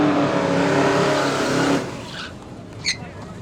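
Heads-up drag race cars launch hard off the starting line in a roaring, loud burst that cuts off and fades away as they head down the track toward the top end, leaving faint distant engine noise.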